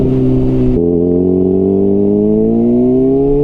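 A Honda CBR600RR sport bike's engine on the move: a loud, steady buzzing note that drops abruptly as a gear change comes in, then climbs smoothly as the revs build again.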